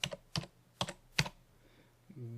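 Computer keyboard typing while working in LibreOffice: four separate, quiet key clicks spaced evenly, fairly close, followed by a faint hum at the end.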